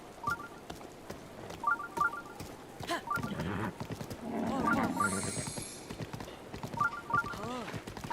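Hooves clip-clop in a steady, repeating rhythm as a spotted horse gallops in Breath of the Wild, with a brief whinny-like swell midway; moderately loud and mixed with game sounds.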